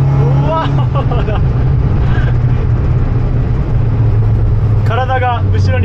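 A circuit-spec Subaru R1 kei car pulls hard at full throttle from low revs, its engine a loud, steady drone heard from inside the cabin while a person talks over it.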